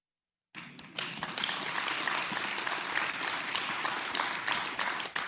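Spontaneous applause from a church audience bursts in after a brief silence and holds steady and fairly loud, a dense wash of many hands clapping with no voices on top.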